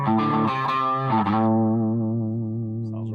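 Electric guitar through a drive pedal into a cheap Fender Mustang transistor amp: a quick run of overdriven notes, then a held chord ringing out with slight wavering sustain, close and loud with no talking.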